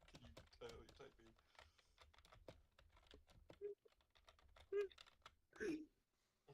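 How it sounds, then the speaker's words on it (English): Rapid, loud typing on a computer keyboard with uneven clicks runs throughout, while people talk over it. "The loudest typing is making it hard to listen."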